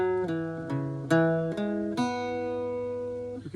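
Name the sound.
Irish bouzouki playing two groups of the jig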